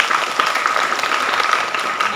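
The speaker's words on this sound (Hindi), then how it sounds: "अब ताली वादन करना है" Group of people clapping hands together in a yoga class at a school yoga camp, a dense, steady patter of many claps close by, with no speech.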